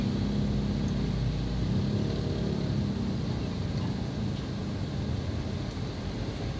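Steady, continuous rumble of road traffic on the Betung Sekayu highway in South Sumatra, with large vehicles and trucks passing; a loud, low engine and tyre drone holds throughout without clear breaks.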